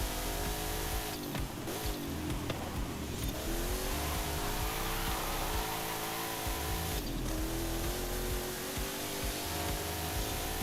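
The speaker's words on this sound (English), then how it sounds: "my brain is still going to be playing the sound of the engine" Race car engine in Forza Horizon 5 during a long race on the Goliath circuit, a loud continuous droning roar with rising and falling revs and gear shifts, steady throughout with no talk.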